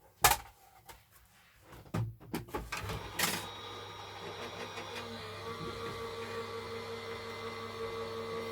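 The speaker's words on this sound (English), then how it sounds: "run this through your embossing machine, your die cutting machine" A sheet of card is cranked through a manual embossing and die cutting machine: a few sharp clicks and thumps at first, then a steady mechanical rolling grind that continues to the end, close and moderately loud.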